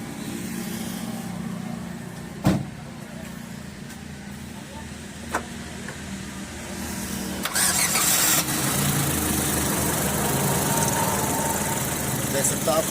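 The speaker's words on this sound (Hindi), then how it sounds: "देख सकते आप फ्रेंड कार जो है स्टार्ट कर दी।" A Ford Figo car, just repaired for an overheating fault, starts with a sharp crank burst and then settles into a steady, even idle that grows slightly louder and fuller after a few seconds.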